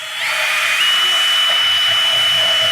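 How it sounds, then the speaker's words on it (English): A power drill whines up to speed and bores holes in metal for plug welds on a Chevy crew cab, with a steady, high-pitched grinding tone, loud and close. "I'm drilling some holes"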